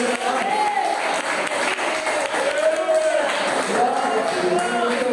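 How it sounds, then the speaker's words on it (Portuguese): Church congregation applauding loudly during a morning service, continuous crowd clapping with voices crying out and cheering over it. "levante as suas mãos e aplauda bem alto ao nome de Jesus"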